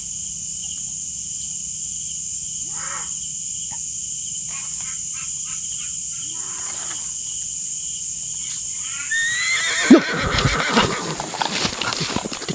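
A horse neighs loudly at night with a long shaky whinny near the end, after a stretch of steady cricket and frog chorus with a few distant calls.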